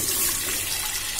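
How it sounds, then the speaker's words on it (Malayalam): Milk poured into a pan for sago kheer, a brief soft splashing liquid stream, fairly faint and alone. "ബാക്കിയുള്ള 750 ml പാൽ ഇതിലേക്ക് ഒഴിക്കുകയാണ്"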